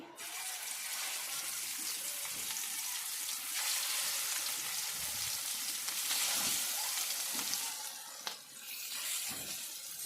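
Fish frying in plenty of hot oil, a steady loud sizzle and crackle filling the whole stretch with slight swells, no talking.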